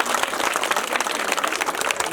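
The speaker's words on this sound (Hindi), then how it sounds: "तालियां बजी" Audience applause after a Maithili street play, a dense steady patter of many hands clapping throughout with no break, moderately loud and fairly close.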